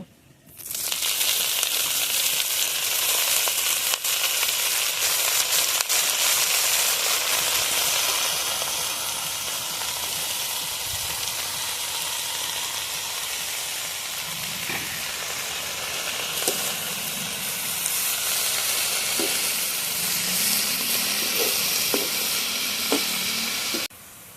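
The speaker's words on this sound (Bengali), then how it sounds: "এখন ওই তেলের মধ্যে আমি সরিষা শাকটা দিয়ে ভেজে নেব" Mustard greens fry in hot oil in a pan, a steady loud sizzle and steam hiss running throughout, with a few soft stirring knocks toward the end.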